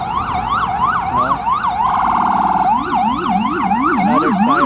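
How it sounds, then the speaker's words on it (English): A loud wailing siren sweeps up and down in fast repeated cycles, with a second siren tone joining underneath, over steady street rumble on a rainy Midtown Manhattan street. "Another siren."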